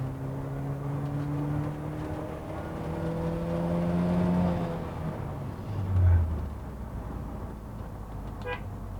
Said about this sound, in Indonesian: kita akan tes tenaga mobil ini.